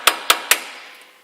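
Three sharp metallic taps from a tiny hammer striking a screwdriver against a wheel bearing on a 2010 Chevy Silverado, evenly spaced, close and ringing briefly before fading.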